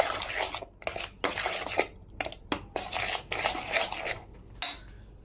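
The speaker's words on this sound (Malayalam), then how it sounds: "പിന്നെ നല്ലപോലെ മിക്സ് ചെയ്തെടുക്കാം." Banana fritter batter is mixed in a bowl, producing repeated bursts of scraping and stirring with short pauses between strokes, fairly close and clear, with no voice.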